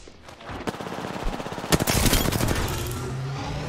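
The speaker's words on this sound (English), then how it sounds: "Getting shot at." Rapid machine gun fire in a video game, with loud, dense bursts and sustained rattling that swells past the midpoint and keeps going to the end, mixed with other combat effects.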